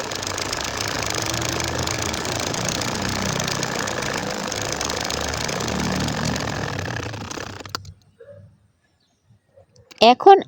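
Sewing machine stitching a baby nakshi kantha quilt: a steady rapid mechanical rattle and whir runs close and continuous for most of the stretch, then stops abruptly into near silence before a few brief knocks.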